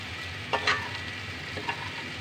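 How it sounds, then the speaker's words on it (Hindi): Gram flour dumplings frying on low heat give a soft, even sizzle, broken by a few light stirring clicks from a spoon in the pan. "फ्राई कर रहे हैं हम, इसको धीमी आंच पे करना है"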